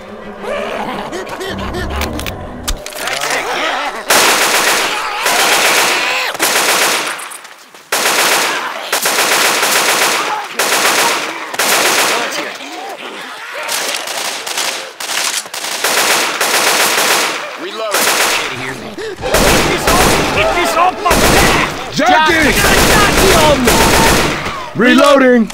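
Loud automatic gunfire fills The Parish level of Left 4 Dead 2, with long rapid bursts broken by short gaps, alongside occasional character voices.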